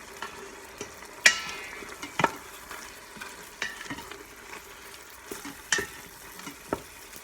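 Ground beef frying with salt and pepper in an Instant Pot for chili, stirred by hand: a soft steady sizzle broken by scattered scraping clicks of the spoon against the pot, close and moderately quiet, with no talking.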